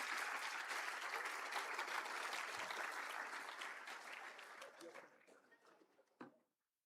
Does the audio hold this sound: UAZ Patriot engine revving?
no